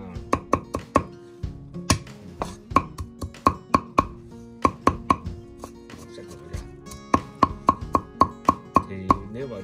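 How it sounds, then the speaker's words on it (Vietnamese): Ginger is struck repeatedly with a cleaver on a cutting board in a kitchen, sharp loud knocks coming in quick bursts with brief pauses between them. "Cái gừng á, mình đập cái."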